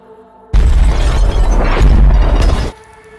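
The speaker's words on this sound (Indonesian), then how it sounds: "terjadi sebuah ledakan yang menghancurkan hampir seluruh area di tempat itu" A sudden loud explosion bursts in after brief quiet, a heavy booming roar with crackling debris that sustains for about two seconds before cutting off abruptly.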